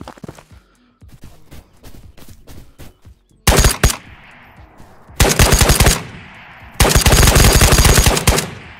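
Automatic weapon fire in the shooter game Ghosts of Tabor, scattered single shots giving way to three long, loud bursts of rapid machine-gun fire, close and dominating.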